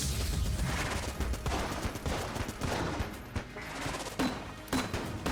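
Rapid M16 gunfire rattles in Enter the Gungeon, a dense, continuous stream of loud close shots with a few heavier impacts near the end and no voices over it.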